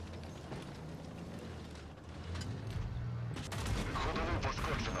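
A tank cannon shot from World of Tanks Blitz, fired by a Vickers MBT Mk.3, booms out, with loud rumbling battle noise and low engine drone continuing around it and no talking.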